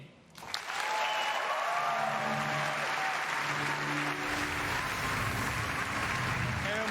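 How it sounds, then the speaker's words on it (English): Sustained audience applause fills the hall at the E3 2019 PC Gaming Show presentation, a dense, steady roar of clapping that swells quickly and holds loud throughout, with faint music tones underneath. "Please give a warm applause to Marc-Alexis Côté"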